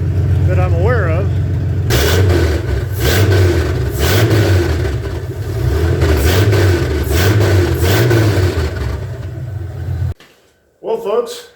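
A 1978 Ford F150 engine runs after long disuse, revving up and down in a steady repeating pattern of rises for several seconds, loud and close, then cutting off abruptly near the end.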